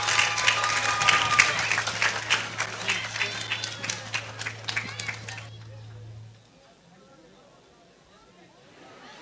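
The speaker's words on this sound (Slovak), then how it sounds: "Privítajme ich potleskom." A crowd at a Roma pilgrimage program in Gaboltov claps to welcome performers. Dense, lively applause with a low hum underneath fades out after about six seconds into near silence.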